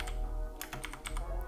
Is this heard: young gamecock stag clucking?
no